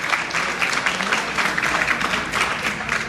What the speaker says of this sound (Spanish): De un aplauso, pues.